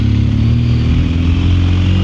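Motorcycle accelerating up close, a loud, continuous engine roar with a strong low rumble that holds steady throughout.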